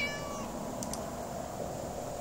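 A cat meows briefly in the Clockwork Tales hidden-object game, a short pair of mews standing alone over a steady background hum.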